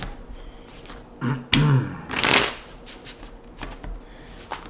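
Tarot cards are riffled and shuffled in a few quick bursts, with softer handling and tapping of the deck in between.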